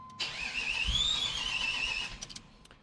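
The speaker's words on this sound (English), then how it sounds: "Obviously, the car's not starting right now." Project car engine cranking without catching: a whirring starter grind rises and holds for about two seconds, then a few sputtering pulses trail off, fairly quiet and close, with no voices.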